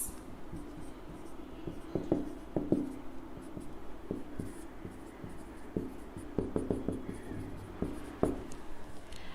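A pen writes out a trigonometry equation on paper, giving soft scratchy strokes and light taps in irregular clusters, close and fairly quiet, with no talking.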